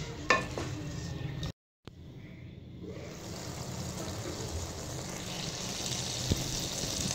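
Potatoes are stirred into aloo mongray curry in a pan, giving a soft scraping and gentle sizzling that follows a short clatter and a brief gap of silence.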